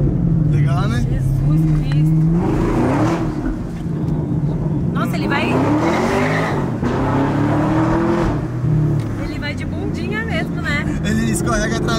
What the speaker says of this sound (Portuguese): Toda vez que você acelera e dá pé nele, ele escorrega a traseira.